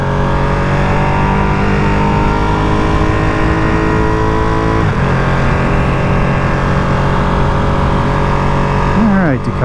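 A 2023 limited edition Ducati Panigale V2 Troy Bayliss motorcycle accelerating hard, its engine note climbing steadily in pitch, dropping briefly at a gear shift, then rising again, loud and close with heavy wind rush.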